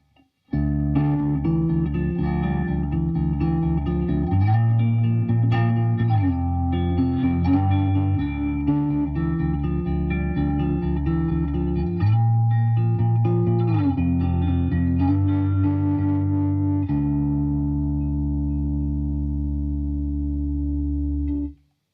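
An electric guitar plays sustained chords through an EarthQuaker Devices Pyramid flanger pedal, with a sweeping, swirling, jet-like tone rising and falling over about twenty seconds.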